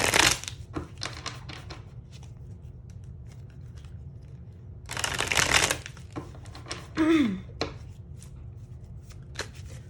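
Oracle cards being shuffled up close during a tarot reading, quick riffling bursts and taps with two longer loud shuffles partway through and a brief voice sound among them.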